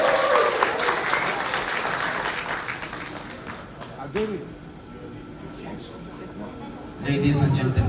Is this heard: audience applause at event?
yes